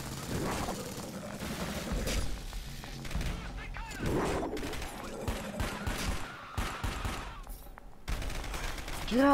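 Gunfire in the shooter video game Dark Sector crackles in rapid, uneven volleys mixed with thuds and other game sounds, moderately loud throughout.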